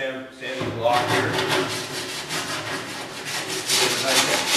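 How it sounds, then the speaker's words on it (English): A sanding block works Bondo body filler on a classic car fender during restoration, giving steady back-and-forth rasping strokes, close and continuous throughout. "Switch over to the sanding block here."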